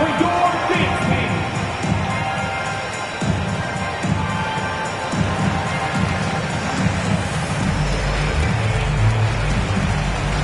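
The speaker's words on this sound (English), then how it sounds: "Fans, please give a big round of applause for your dance team." An arena basketball crowd cheers and claps for the dance team, a steady roar of voices and applause with shouts rising and falling across the stands.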